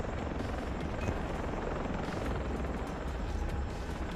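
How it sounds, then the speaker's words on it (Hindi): A helicopter hovers overhead in the Far Cry video game, its dense rotor roar and engine drone loud and continuous throughout, with no talking. "अभी हेलीकॉप्टर भी हमारे सर के ऊपर है"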